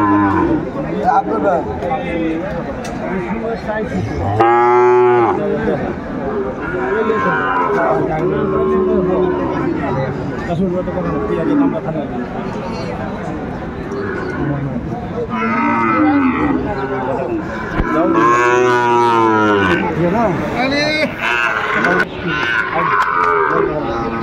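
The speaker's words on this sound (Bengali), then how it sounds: "সাইওয়ালের ষাঁড় বাচ্চা দেখছিলাম এখানে।" Several Sahiwal bull calves and other cattle moo loudly and repeatedly at a busy cattle market, long drawn-out calls rising over a constant crowd murmur and nearby chatter.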